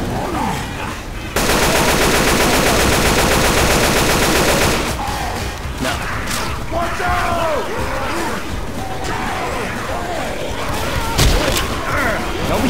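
Left 4 Dead 2 survivors firing at the Tank in a haunted forest map: a loud, unbroken automatic burst, then scattered shots and booms amid chaotic game noise, with voices shouting underneath.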